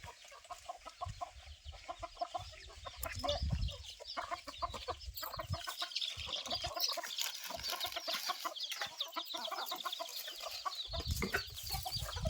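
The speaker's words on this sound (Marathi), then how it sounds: "बघू शकता गावठी कोंबडे एकच नंबर आहेत" Village chickens and roosters at a rural homestead in Konkan cluck and call repeatedly, overlapping at moderate distance with occasional louder bursts and faint background rustling.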